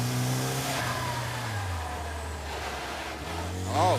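Race car engine accelerating down the back straight, a loud sustained drone that drops in pitch as it shifts, then rises again, heard up close with no talking.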